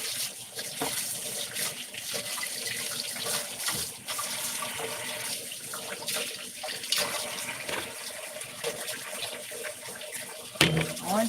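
Water runs steadily from a kitchen tap into a sink, a continuous close hiss and splash that holds through the whole stretch, with a brief clatter near the end.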